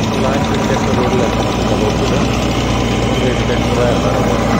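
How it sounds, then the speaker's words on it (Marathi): A tractor engine runs loud and steady at close range while a JCB works to pull the stuck tractor out, a continuous low drone with no break. "JCBला ट्रॅक्टर बाहेर काढणार आहोत."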